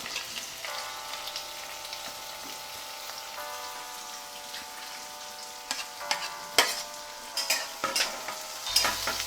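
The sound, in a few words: onion, curry leaves and chilies frying in oil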